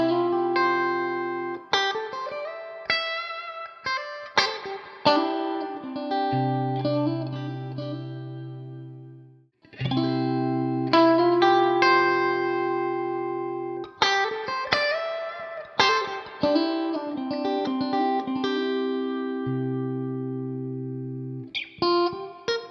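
An electric guitar plays through a Drybell Unit67 overdrive pedal, alone and up close: picked single notes and sustained chords ring out with rich harmonics and a prominent midrange, pausing briefly midway before continuing.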